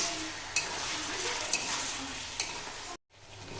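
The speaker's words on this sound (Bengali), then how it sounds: "মাংসগুলো দিয়ে ভালো করে কষিয়ে নেব" Chicken pieces sauté in spice masala in a pan for a coriander and mint chicken dish, a steady hissing sizzle broken by a few sharp spatula knocks, then a brief cut to silence.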